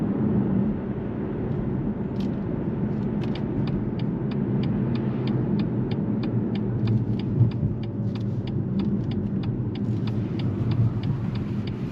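BMW X2 25e plug-in hybrid SUV with 220 horsepower, M Sport trim, pulls away briskly under a steady low road rumble while a faint, evenly spaced ticking runs through the cabin.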